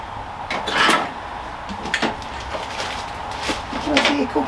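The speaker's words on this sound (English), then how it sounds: "Oh, I can actually get my drawers open again." A drawer on a workbench slides and knocks several times while bicycle repair work goes on, giving scattered wooden clunks and scrapes at moderate, close range.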